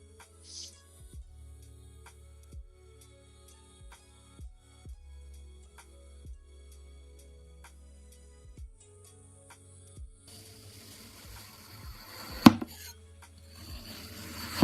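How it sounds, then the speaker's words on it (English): Kinetic sand is cut and rubbed close up in a quiet room, with soft, sparse slicing taps at irregular intervals, followed by denser scratchy rubbing near the end. "Sand, yeah, the kinetic sand."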